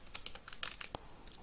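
Quick, light keystrokes on a computer keyboard click close by in an irregular burst of about a dozen taps, with one slightly heavier press partway through, against a faint room hiss.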